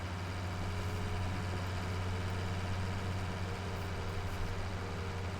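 A tractor engine in Farming Simulator 19 idles at a steady low drone, with a continuous hum and no change in pace across the stretch.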